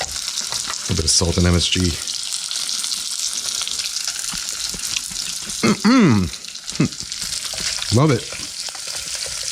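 Pork browns in a pan for a Korean soft tofu stew, frying with a constant loud sizzle while a voice speaks briefly over it in a few short bursts.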